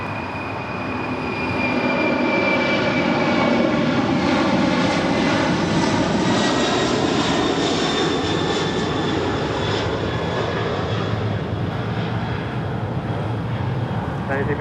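An airliner landing on runway 25 left at LAX gives off a loud, sustained jet-engine roar with a slowly shifting whine. It fills the whole stretch, heard from fairly close.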